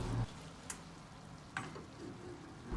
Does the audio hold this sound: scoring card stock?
no